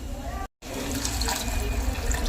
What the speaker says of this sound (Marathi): आता त्याच्यात थोडंसं पाणी टाकू आपण